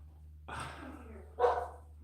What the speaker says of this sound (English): A puppy named Luna.